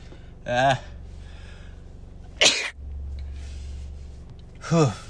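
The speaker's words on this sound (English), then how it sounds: "Hold on, I'm going to sneeze." A single sharp sneeze bursts out between two short vocal sounds, close and loud against a quiet low hum.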